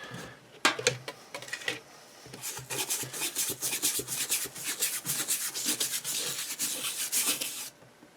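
Parts of a Hitachi HT-20S turntable are scrubbed with a sudsy brush: a few scattered scratches first, then a long run of rapid, rhythmic, close brushing strokes that stop abruptly near the end, with no voices.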